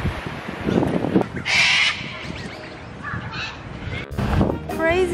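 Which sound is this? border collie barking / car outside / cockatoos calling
cockatoos calling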